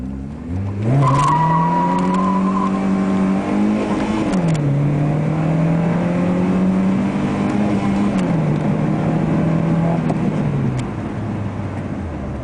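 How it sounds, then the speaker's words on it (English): A 2006 VW MK1 Velociti 1.6i (74 kW) accelerates hard, its loud engine note climbing steadily, dropping briefly at a gear change, then climbing again and holding before easing off. No one talks. "Some acceleration videos will follow after these photos."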